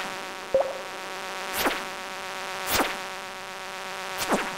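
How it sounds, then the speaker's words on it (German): Three quick buzzing whines of a mosquito in the farming game Stardew Valley, each rising and fading in under a second, spaced apart over soft background game music with a brief click at the start. "Ist eine Larve durchgekotzt, kommt eine Mücke raus."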